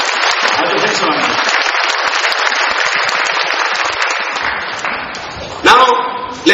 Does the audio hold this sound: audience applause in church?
yes